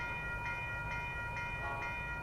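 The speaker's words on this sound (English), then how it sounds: "Here comes the Amtrak Capital Corridor train 528" Amtrak Capitol Corridor passenger train 528, headed to Sacramento, passes along 98th Avenue in Oakland, California, giving a steady rumble with a sustained tonal ring and faint rhythmic clacks. It is fairly near and continuous, with no talking.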